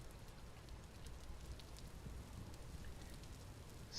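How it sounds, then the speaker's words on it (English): Steady rain patters continuously in the video game Vintage Story, a faint, even hiss of drops with no talking over it. "And it's very rainy."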